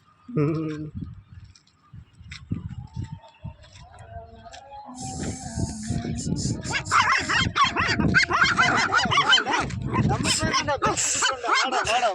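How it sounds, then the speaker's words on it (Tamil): Two puppies bark and yip in short, high, excited bursts, some near and some overlapping, while people talk and laugh around them. "ரெண்டு நாய்க்குட்டி"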